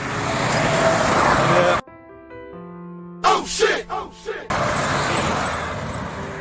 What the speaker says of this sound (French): Il y a beaucoup de voitures qui roulent